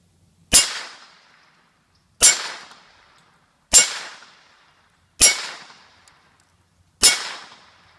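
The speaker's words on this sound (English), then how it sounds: "This will be a 5-shot string, 20 yards," XM193 rifle rounds strike an AR500 steel armor plate at 20 yards from a 16-inch barrel: five sharp, evenly spaced cracks with ringing metallic decays, each about one and a half seconds apart.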